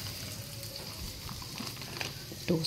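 Butter melting in a pan with a spoon, giving a soft, continuous sizzle and light crackle, with a brief louder clatter near the end.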